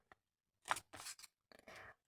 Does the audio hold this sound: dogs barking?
no